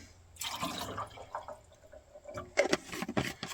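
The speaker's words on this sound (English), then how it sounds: "Then I like to put some, just some water in there." Water is poured into a container of moonshine, a close splashing and gurgling pour that starts, eases off, then comes back in quick sloshing bursts.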